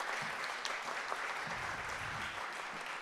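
A conference audience applauds with a faint, steady wash of clapping that holds evenly for the whole few seconds, heard at a distance with no talk over it.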